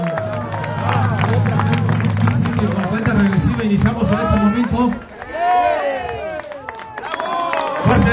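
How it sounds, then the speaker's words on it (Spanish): Crowd at an avenue inauguration in Comitán cheering and clapping beneath an amplified announcer counting down, with a steady hum under the voice and lively babble rising afterward. "Fuerte el aplauso, que se escuche."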